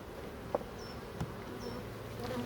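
Honeybees at hive colonies without supers, a steady close droning hum that fills the whole moment, with a few individual bees zipping past.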